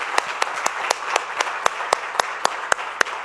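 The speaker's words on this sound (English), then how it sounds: "Another round of applause for a wonderful presentation." Sparse clapping from a workshop audience after a Latin jazz percussion presentation at a museum, with sharp distinct claps spaced roughly a quarter second apart over a soft room wash.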